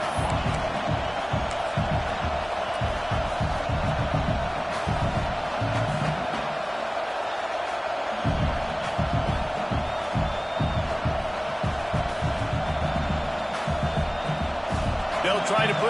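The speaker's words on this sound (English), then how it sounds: "This crowd trying to do its part to get inside the kicker's head" Loud stadium crowd roars steadily throughout at a college football game against #13 Notre Dame as the field goal unit lines up on fourth and short, with cheers and whoops swelling and dipping briefly before surging again.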